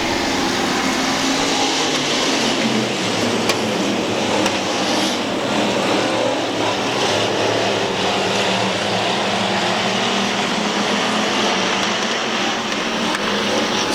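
A field of factory stock race cars roars around a dirt oval at the start of a feature race, a dense, continuous wall of engine noise holding loud and steady throughout.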